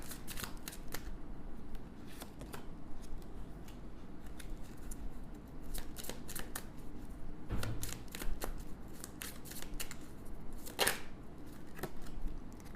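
Tarot cards are shuffled and drawn from a deck, giving a steady run of soft papery riffles and crisp snaps, with a few sharper card flicks standing out near the end and no talking.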